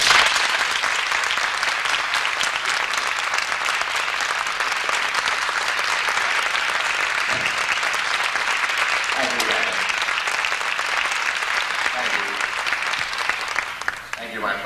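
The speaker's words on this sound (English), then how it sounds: "if you applaud so vociferously" Sustained, dense applause from a student audience at a coffee house event, steady and loud throughout with a few faint voices rising underneath near the end.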